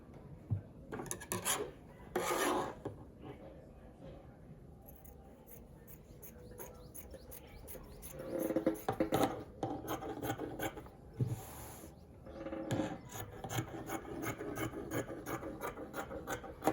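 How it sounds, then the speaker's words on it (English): Scissors cut through folded fabric for cargo pants in a run of rasping snips and slides, close and fairly quiet, with bursts of rapid crunching cuts toward the end. "let me just go ahead, cut out this part"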